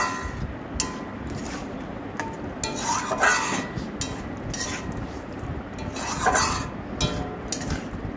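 Egg curry with potatoes and a little added water is stirred and sautéed in a pan. A spatula scrapes and rubs in uneven strokes over a soft sizzle, fairly close and with no voices.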